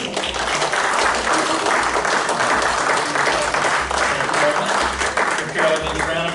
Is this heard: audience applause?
yes